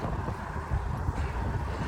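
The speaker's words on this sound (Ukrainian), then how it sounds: "Ну вітер ще не такий сильний, який міг бути" Wind buffeting a microphone outdoors during a bicycle ride, a continuous low rumble with gusty fluctuations and no voices.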